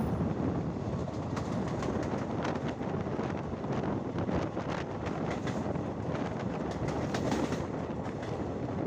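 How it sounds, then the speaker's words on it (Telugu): A passenger train rolls into Sompeta railway station in a steady, loud wash of rumbling wheels and rail clatter, with wind buffeting the microphone throughout and no voices. "మన ట్రైన్ సోంపేటలోకి ఎంట్రీ అయిపోయింది"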